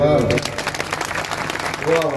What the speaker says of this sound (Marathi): म्हणजे बाबांसाठी एकदा जोरदार टाळी